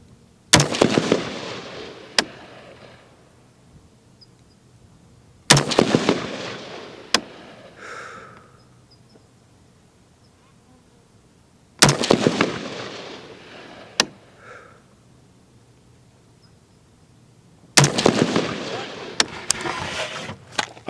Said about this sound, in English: we just shot that group. We got all the shots in and around the pasty at point aim, point impact.